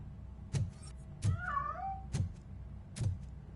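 A cat meows in the RoboCop: Rogue City video game, several short cries spaced about a second apart with one drawn-out wavering call, fairly clear over a quiet low background hum.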